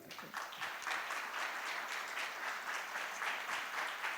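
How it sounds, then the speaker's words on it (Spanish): An audience at a regional nursing conference applauds steadily, a dense and even clapping of many hands that sounds moderately distant and keeps going through the whole clip. "este aplauso es para él"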